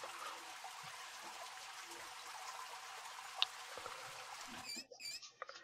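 A shower runs in The Sims video game, a faint steady hiss of spraying water that continues evenly, then cuts off near the end.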